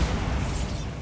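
A Bombarda blasting spell explodes in Hogwarts Legacy, a loud, dense rumbling burst that fills the whole moment with low boom and crackling debris, with no talk over it.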